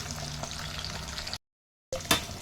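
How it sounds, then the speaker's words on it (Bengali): Bata fish frying in hot oil in a pan at home, a steady close sizzle that cuts out briefly, then resumes with a sharp crackle. "তো মাছগুলো দেখো ভাজা করে নিলাম, ভাজা হয়ে গেছে আর কি।"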